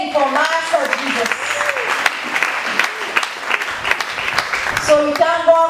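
Church congregation clapping during a healing and deliverance service, brisk applause with someone speaking over it at the start and again near the end.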